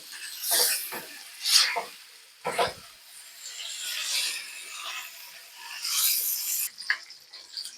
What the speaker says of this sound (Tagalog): Pero kailangan talaga tuloy-tuloy lang yung paghalo.